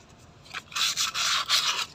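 Sandpaper rubbing over a motorcycle drum brake shoe, a Kawasaki CT or Bajaj, in several close, loud back-and-forth strokes after a quiet start, with no talk.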